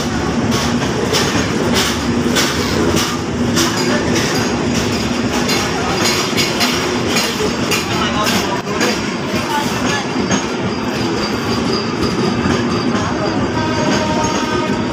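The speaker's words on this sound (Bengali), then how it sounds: "জোরে টানছে ট্রেন।" The Nilsagar Express passenger train, with AC coaches and power cars, pulls out on its Dhaka to Chilahati run, a loud, close rumble with rhythmic clacking of wheels over rail joints as the carriages roll past.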